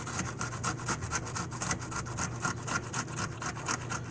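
An onion is grated on a box grater for potato pancakes: quick, even rasping strokes repeat steadily, close and quiet, with no talking.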